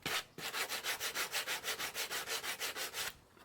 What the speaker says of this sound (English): First I'll use some 80 grit sandpaper to clean up the sawn ends of all the boards.